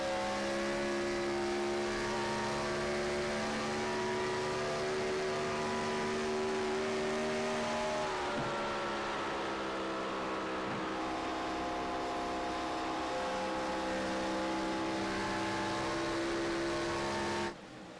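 Race car engines in a racing simulation game at Atlanta, a loud continuous droning whine held at high revs, with a shift in pitch midway and a sudden drop at the end.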